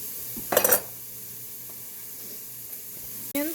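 Chopped onions for butternut squash soup frying in a pan, a low steady sizzle broken by a short burst of metal pan clatter early on and another knock near the end.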